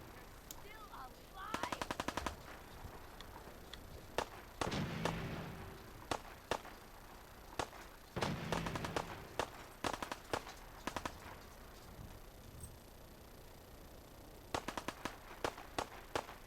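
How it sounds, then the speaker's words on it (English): Gunfire in the video game Fallout 4, with rapid machine-gun bursts and single shots in clusters, some loud, some quieter and more distant, separated by short pauses and a few thumps, with no talking. "you got Preston up there shooting down at him"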